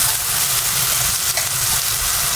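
Garlic sizzles loudly in a hot oiled pan, a steady close frying hiss with no talking.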